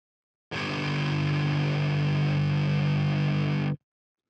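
A distorted metal-rock layer for neurofunk, run through a tube compressor, plays as a dense, sustained, heavily saturated tone for about three seconds before cutting off abruptly.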